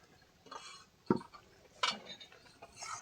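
A metal lid lifted off a pot of boiled masoor lentils with drumstick leaves, giving a couple of quiet clinks and scrapes of metal against the rim, close by.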